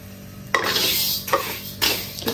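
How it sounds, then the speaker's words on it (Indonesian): Raw rice is dry-roasted in a pan without oil, stirred in a few scraping, rustling sweeps with faint metallic clinks of the utensil, close and moderately loud, no voices. "Kita akan sangai beras ni ataupun goreng dia tanpa minyak selama sampai beras tu dia bertukar warna kekuningan"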